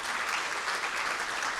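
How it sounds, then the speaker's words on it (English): Audience at a GIS forum's opening remarks applauding an introduced guest, a brief, even burst of dense clapping from a full room. "Round of applause."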